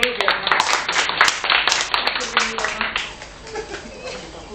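An audience claps in bursts at a school gathering on giving meaning to waste, the clapping fairly close and lively before thinning out near the end, with voices talking underneath throughout.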